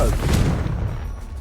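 A Confringo spell blast in the video game Hogwarts Legacy, a short loud burst with a deep low thump and rumble that decays within about a second, with a voice briefly overlapping it.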